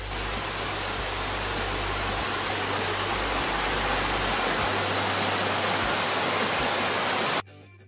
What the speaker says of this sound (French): on a une belle petite cascade d'eau là